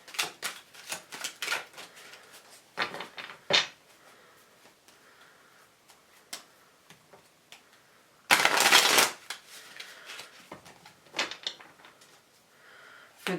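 Tarot cards being shuffled in short, papery bursts with quiet pauses between, and one louder riffling flurry midway; close and fairly quiet, no talking.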